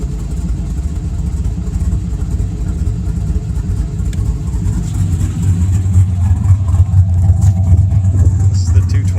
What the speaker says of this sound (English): through the cutout it sounds a little bit more rowdy.